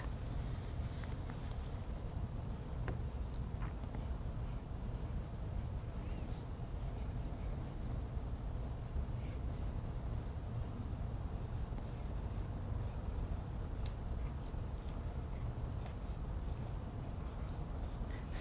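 Pencil or pen scratching steadily across paper at a child's drawing-and-writing session, continuous soft rubbing strokes close by with faint background noise and no talk.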